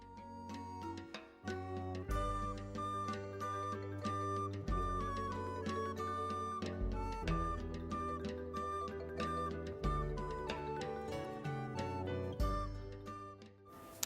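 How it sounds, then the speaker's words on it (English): A piano plays a flowing passage of chords and melody, somewhat quiet and distant, continuing steadily with no talking over it. "You may hear a piano in the background."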